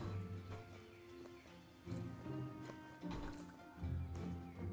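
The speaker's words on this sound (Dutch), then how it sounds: "Dus de galop. Iets slommer galop dan." A Paso Fino horse gallops in the video game Star Stable Online, with rhythmic thudding hoof strikes in repeating bursts beneath steady game music.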